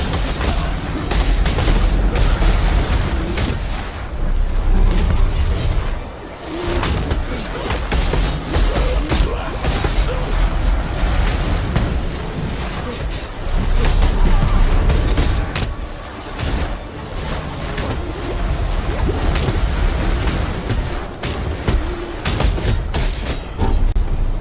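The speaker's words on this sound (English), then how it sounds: "The close quarters and all the explosions makes this a bit of a pain to deal with." Repeated explosions and blasts crowd a boss fight in close quarters in the video game Path of Exile, a loud, dense barrage of booms and bursts that stays busy throughout.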